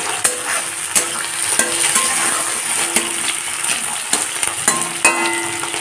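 Chopped onions sizzle and fry in a pan over a high gas flame after ginger and garlic, with a steady hiss broken by sharp clinks and scrapes of a stirring utensil against the pan.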